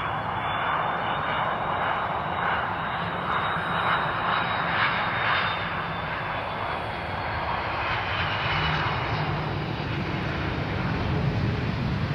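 A Brussels Airlines jet takes off at Zurich Airport, a loud, steady engine roar from the aircraft sustained throughout at moderate distance.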